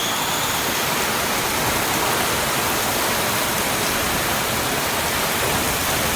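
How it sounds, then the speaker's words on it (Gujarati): Strong wind and heavy rain lashing a farm with mango trees, a dense, unbroken roar of downpour and gusts close by, loud and steady for several seconds with no voices. "પવન ને વરસાદ ને પવન એટલો વરસાદ જ પડે"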